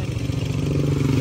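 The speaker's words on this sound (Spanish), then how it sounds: "Ahí viene una moto." A motorcycle engine runs steadily close by on a street in Juchipila, Zacatecas, with a low throbbing drone and no voices over it.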